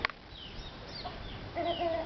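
Chickens in a garden give a few faint, soft clucks set against quiet background noise, with no one talking.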